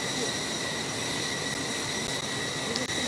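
Steady broadband jet roar of an airplane taking off in a Roblox flight simulator game, a constant engine whoosh with a high whine layered on top and no voices.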